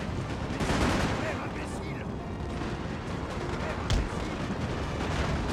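Artillery cannon fire from a six-pounder battery in the Napoleon Total War video game: a dense, continuous rumble of booming shots with one sharper blast near the end, loud and layered with faint battlefield voices.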